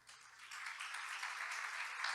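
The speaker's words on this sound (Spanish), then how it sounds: "Dale un aplauso a Cristo." Church congregation applauding during a Spanish-language sermon, a soft, distant wash of clapping that swells slightly and holds steady for a couple of seconds.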